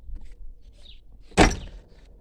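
The door of a VAZ-2101 shuts with one loud, solid thunk at close range, preceded by faint rustling and handling noise and followed by a quiet tail.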